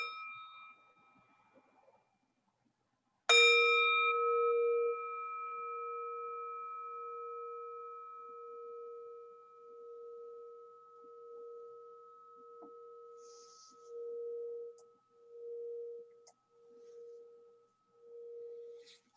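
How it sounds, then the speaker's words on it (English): A meditation bell struck once at a mindfulness dharma talk, loud at first, then a clear sustained tone lingering and slowly pulsing as it fades over many seconds, alone with no talking. "Let's enjoy a sound of the bell."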